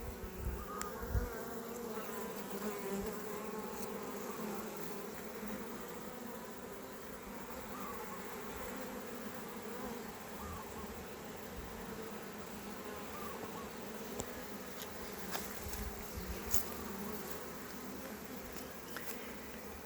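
Honeybees buzz continuously around an open beehive during a hive remodel. The hum is dense and steady, fairly soft and close, with occasional faint clicks and knocks and no talk.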